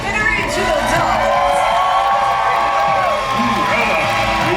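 Large theme-park audience at a Disney Villains stage show cheering and whooping continuously, a dense loud crowd roar with a performer's amplified voice singing over it.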